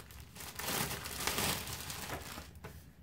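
Plastic packaging bag holding a 150 by 210 cm poplin bed sheet being crinkled and handled, a close, continuous rustling crackle with brief pauses and no talking.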